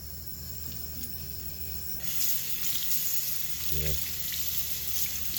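Carrots are rinsed under a kitchen tap in a sink, a continuous rush of running water that gets louder partway through, with a voice speaking over it briefly.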